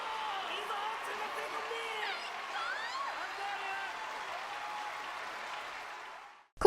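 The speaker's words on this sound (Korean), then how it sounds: "결국 각각의 솔리스트로서 연주를 마친 둘은 관객으로부터 엄청난 환호를 받게 됩니다" Enthusiastic audience applause and cheering fill a concert hall after a piano competition performance in an anime, a steady wash of clapping at moderate loudness that holds throughout, with faint voices mixed in and a brief cutoff at the end.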